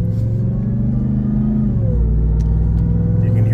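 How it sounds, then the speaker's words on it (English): A RAM TRX pickup truck in sport mode gives a loud, close engine rumble with a faint rising supercharger whine layered over it, sustained throughout. "You can hear that supercharger."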